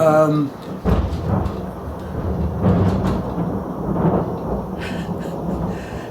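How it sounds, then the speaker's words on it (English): Low rumbling thunder rolls continuously, with a sharper crack near the start, loud and close beneath a steady wash of rain. "I don't know if you can hear the thunder and lightning"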